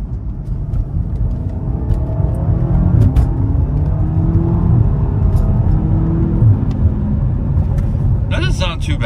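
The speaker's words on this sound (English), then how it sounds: "All right, we are in Sport Plus mode, as what we normally drive in. Let's hear the pull from the inside of the car." A BMW F90 fitted with a Dinan X pipe exhaust accelerates in Sport Plus mode, its steady low engine drone heard from inside the cabin, fairly loud and continuous throughout the pull.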